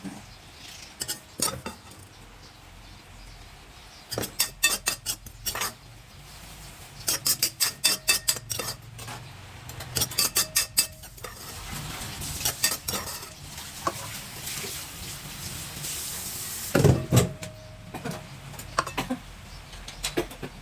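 Spoon scrapes and clinks against a cooking pot while mushroom ingredients are stirred and scooped in, a series of quick metallic rattling bursts with a soft sizzle beneath, close up and without talk.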